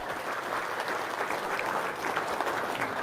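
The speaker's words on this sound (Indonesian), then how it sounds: "Cep, tepuk tangan dulu dong." Steady, dense applause from a group fills the room at a moderate, even level, with no break in the clapping.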